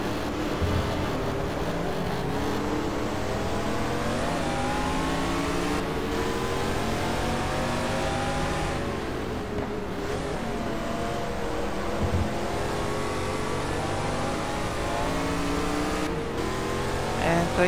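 A De Tomaso Pantera's engine in GT Legends racing at Dijon, revving up and down through gear changes in repeated rising sweeps, loud and continuous with brief tire noise.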